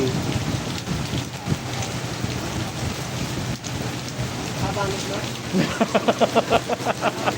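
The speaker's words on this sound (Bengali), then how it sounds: "কি বৃষ্টি হওয়া হয়েছে" Heavy rain pours steadily with thunder during a downpour, a dense continuous wash of noise with people talking over it throughout.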